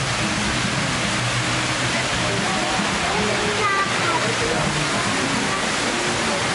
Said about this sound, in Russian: у меня сложилось впечатление, что здесь такой очень освоенный водопад